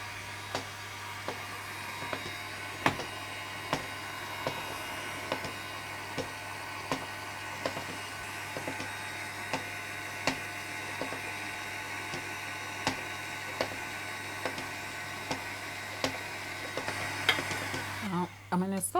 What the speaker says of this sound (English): You want to slow the mixer down a little bit whilst the eggs are adding.